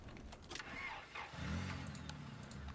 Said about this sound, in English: Get in the car and drive away.